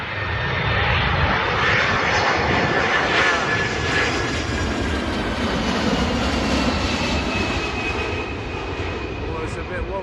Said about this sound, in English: That United Airlines was a bit of a wobbly landing there.